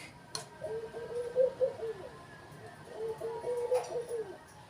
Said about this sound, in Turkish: İçeride kuşlar gelmiş. Bakın ses geliyor. Güvercinler var.